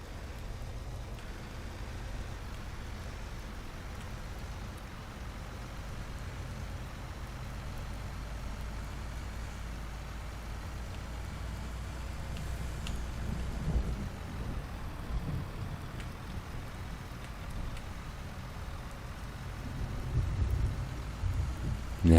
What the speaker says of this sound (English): Man, this rain had better let up by the time this day is done